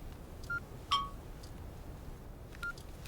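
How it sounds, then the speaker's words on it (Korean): A mobile phone chirps with short electronic beeps, a few brief tones spaced across a quiet room, faint and isolated with no voices. "보겔 형사의 휴대폰으로 날아든 익명의 문자 한 통"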